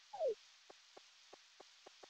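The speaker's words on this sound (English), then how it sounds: "it's raining today" Quiet, steady rain hiss from a farming video game's post-game, with a soft, spaced-out ticking of drops.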